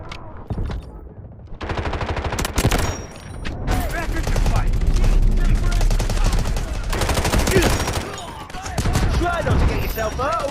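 Bursts of automatic machine gun fire from the mobile shooter Delta Force Mobile rattle loud and close in long rapid volleys, broken by short pauses, with game voices faintly mixed in.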